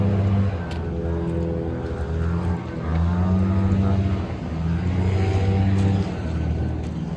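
Cars pass on a street with a pedestrian nearby, a loud near engine and tyre rumble that swells and fades in waves as vehicles go by.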